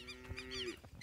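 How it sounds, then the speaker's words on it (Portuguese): A calf bawls among a herd of recently weaned dairy cows on a farm, one long, loud, close moo that holds a steady pitch before trailing off, followed by faint farmyard noise. "porque a bezerra tá berrando"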